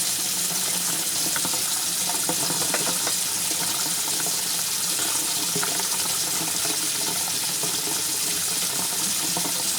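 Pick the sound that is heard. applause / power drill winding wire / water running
water running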